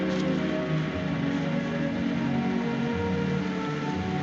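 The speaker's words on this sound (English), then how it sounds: "Starting to rain." Rain begins to fall outdoors near a country house, a soft steady patter spreading across the ground under a low background hum, with no voices.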